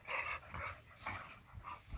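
Two dogs playing rough, panting and huffing in short rhythmic bursts with scuffling, fairly faint and at close-to-mid distance.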